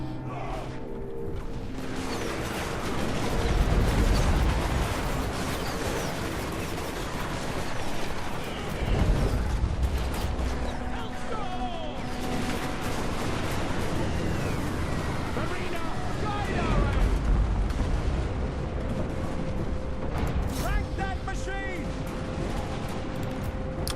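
Empire units fire artillery and gunpowder weapons in a Total War: Warhammer 2 battle, with repeated booming volleys and crackling bursts over a steady battlefield din, some louder swells standing out.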